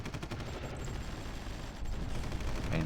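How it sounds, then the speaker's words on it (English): Strategy game Supreme Ruler Ultimate battle gunfire: a faint, steady, distant rattle of shots, continuous and low in level, growing slightly denser toward the end. "Now we're going to start firing at the Hungarians and Vietnamese, I believe."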